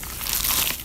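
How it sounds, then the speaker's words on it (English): A bite into a crunchy, cheesy pizza slice makes a close, crisp crackling crunch that swells and fades over under a second, with no voices. "Is that the sound of an ooey gooey cheesy crunchy slice of P-I-Z-Z-A?"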